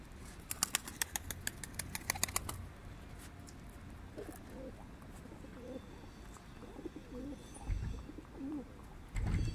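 A young Diyarbekir white pigeon takes off with a rapid burst of wing claps, then soft cooing and faint bird sounds follow in a quiet outdoor setting, ending with another brief flutter.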